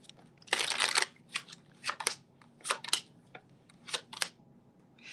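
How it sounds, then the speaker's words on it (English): Tarot cards being shuffled by hand in several quick riffling bursts, a long burst first and then shorter ones, close and crisp over a quiet room with no talking. "One more shuffle."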